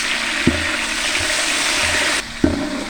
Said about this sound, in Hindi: साथ हम इसमें थोड़ा सा पानी शामिल कर देंगे।